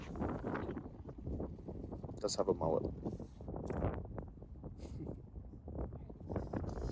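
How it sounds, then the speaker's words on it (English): Gusty wind buffets the microphone in low rumbling bursts while a person talks over it outdoors. "it is super windy and feels amazing right here"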